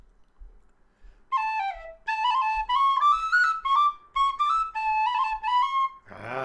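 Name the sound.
tin whistle playing a hornpipe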